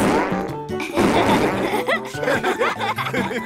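Cartoon fart sounds from animal characters, comic squeaky and buzzy blasts that mix with chuckling and laughter in a lively children's animation.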